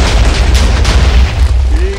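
A continuous roar of overlapping explosions in the Minecraft video game, loud, dense and low rumbling booms that keep rolling together, with no speech.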